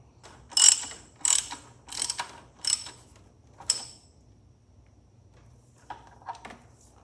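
A ratchet tightening bolts during an oil change on a Jeep JK with the 3.6L engine, five crisp clicking bursts at close range followed by a few quieter mechanical clicks in a quiet garage.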